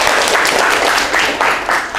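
Applause fills a classroom: dense, steady clapping from a group of students that carries evenly for about two seconds with no voices over it.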